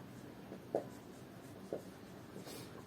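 Pen or marker writing the discriminant formula by hand for a Class 10 quadratic equations lesson, giving faint scratchy strokes with two brief taps against a low room hum.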